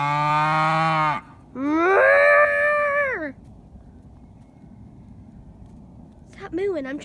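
A cow on a farm moos loudly and close by, giving two long drawn-out calls back to back, then a shorter moo after a quiet pause.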